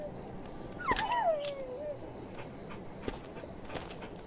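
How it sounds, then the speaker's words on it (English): In the Maid of Sker video game, a dog caught in a trap gives one drawn-out, falling whimper up close, followed by a few faint footsteps and clicks in a quiet room. "saving the doggy. He's stuck in a trap."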